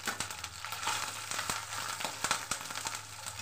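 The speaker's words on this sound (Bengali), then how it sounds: "এখানে আদা বাটাটা আগে দিয়ে দিলাম" Ginger paste and onion fry in hot oil, a dense close sizzle full of sharp crackles and pops, fairly loud and steady with no voices.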